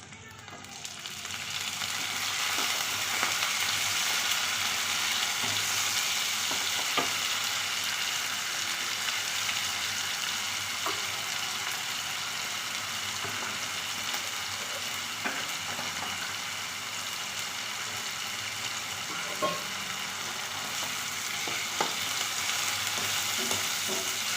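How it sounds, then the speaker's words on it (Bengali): Oil sizzles steadily as browned potatoes fry in a pan after ginger and tomato paste are added, for a sweet-and-spicy cabbage dish. The frying is loud and continuous, with occasional stirring clicks and scrapes. "তো আলুটা লাল লাল করে ভাজা হয়ে গেছে তো এবার আমি এই আদা আর টমেটো যে বলেছিলাম খিচে রেখেছি ওটাকে দিয়ে দিলাম"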